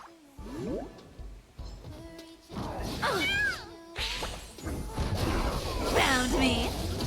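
A voice imitates cat meows, a run of rising and falling wavering calls, close and fairly loud, mixed with thumps and other vocal noises.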